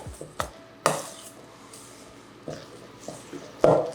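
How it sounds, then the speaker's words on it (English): A spoon works through a thick low-sugar dessert batter in a bowl, giving scattered close knocks and clacks against the bowl with quiet scraping between them. "So let me stir all this first."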